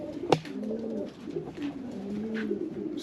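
Pigeons coo softly in a loft, low repeated rolling calls at moderate distance with a brief sharp sound near the start and faint background noise.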